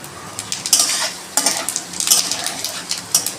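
Whole cumin seeds hit hot oil in a pan with cloves while cooking a potato and pointed gourd curry, giving crackling sizzle in bursts, with a spoon stirring and scraping against the pan.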